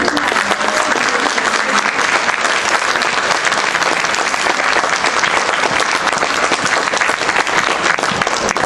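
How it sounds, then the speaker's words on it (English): A large crowd at a certificate presentation applauds loudly and steadily, a dense, sustained roar of clapping with no pauses. "Give yourselves a big round of applause."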